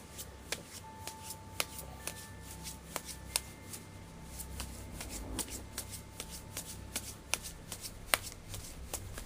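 A deck of divination cards is shuffled by hand, a faint run of crisp riffling flicks and sharp card snaps in an irregular rhythm, close and quiet, with no talking.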